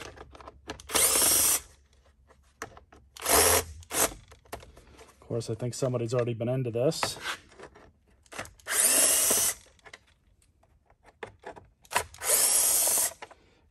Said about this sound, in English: Get my trusty little drill here.